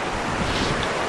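Ocean waves and the incoming tide washing up on the beach at Tybee Island, a loud continuous surf roar mixed with wind buffeting the microphone.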